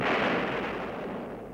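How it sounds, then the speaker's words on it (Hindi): A single deep boom from old siege cannons firing at the fort of Jhansi, heavy and rumbling, decaying slowly over more than a second. "सवेरा होते ही झांसी की तोपें फिर गरजने लगी।"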